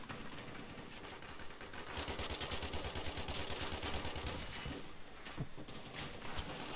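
Faint, sustained automatic gunfire in a video game as shields are shot down, a steady rattle of rapid shots heard at a distance with no speech over it.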